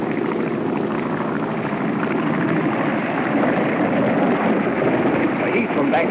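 An airplane flies in during a vintage 1930s adventure film, its loud, steady engine drone rumbling continuously throughout.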